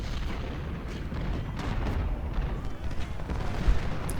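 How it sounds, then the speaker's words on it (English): Artillery shell fire in the Civil War strategy game Ultimate General: Civil War, a continuous rumble of distant booms and low bursts rolling under each other at moderate volume. "So I think that is shell fire"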